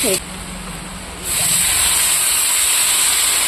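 Water poured into a hot pan of frying spiced potato curry sets off a loud, sustained steam hiss that surges and then holds steady and close.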